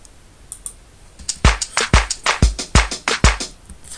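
Keys on a computer keyboard trigger sounds in the Hip Hop Cube music program: about a dozen sharp, bright hits arrive in a quick uneven run, several of them loud and close, with no talk.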